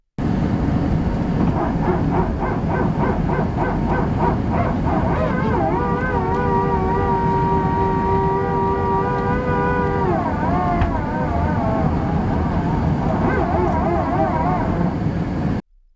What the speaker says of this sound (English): the PTU noise is heard during the initial ascent of the aircraft